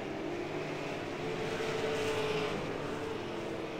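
Race cars on the Las Vegas Bullring oval come off turn 4 in a steady, continuous engine roar, heard from a moderate distance without breaks.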